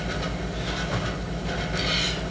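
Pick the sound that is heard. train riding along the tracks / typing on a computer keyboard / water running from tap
train riding along the tracks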